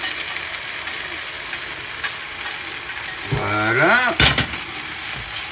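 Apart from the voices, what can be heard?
veal stock poured into a hot sizzling pan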